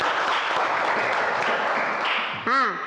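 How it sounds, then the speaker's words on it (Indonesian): A classroom of students claps for a presenting discussion group, a moderate patter of hands with voices mixed in and a brief spoken exclamation at the end. "kita beri tepuk tangan dulu untuk kelompok 4 ini"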